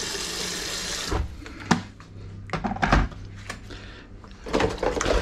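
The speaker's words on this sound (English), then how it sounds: "I'm just going to put the kettle on again for some more hot water" Water rushes from a tap into a kettle in a home kitchen, a steady hiss for about a second, followed by clunks, knocks and clatter of handling the kettle and dishes nearby.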